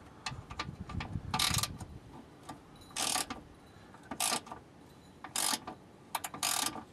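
Ratchet wrench tightening a bolt on a 2002 Mazda 626, a series of close clicking bursts separated by short pauses, with faint background hum between them.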